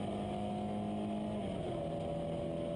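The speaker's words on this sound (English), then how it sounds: "Steve Brown accelerates his way now up through Copse Corner." A Porsche 924 race car at Silverstone accelerates hard up through Copse Corner, its loud, continuous engine drone shifting pitch as it pulls through the gears.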